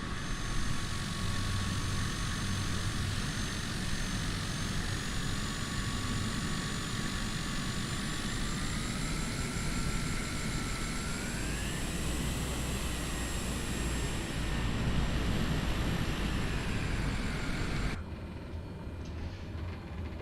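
Bush plane engine taxiing in Microsoft Flight Simulator 2020 in southeast Alaska: a steady, loud propeller drone with a rising whine partway through, continuous and alone until it drops off near the end.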